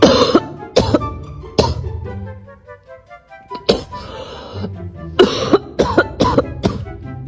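Several sharp, harsh coughs burst out at irregular intervals, close and fairly loud, with quieter breathy sounds between them.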